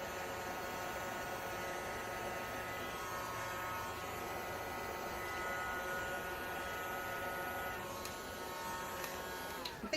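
A heat gun blows on resin beach coasters to spread waves, making a steady broadband whoosh with a faint motor hum that runs unbroken for about ten seconds.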